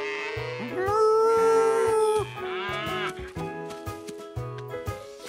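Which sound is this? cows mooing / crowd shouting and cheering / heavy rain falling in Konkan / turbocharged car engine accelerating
cows mooing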